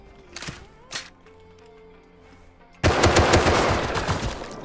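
Semi-automatic rifle fire in a video game: two sharp separate shots early on, then after a quiet stretch with faint tones a dense, loud burst of rapid gunfire that carries on to the end.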